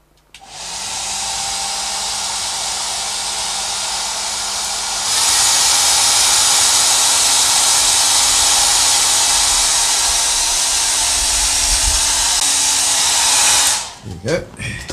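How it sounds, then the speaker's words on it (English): A hair dryer blows close and loud over a watercolor painting of a red crested crane, a steady whooshing roar that steps up to a higher setting partway through, then cuts off with a brief clatter near the end. "And hairdryer."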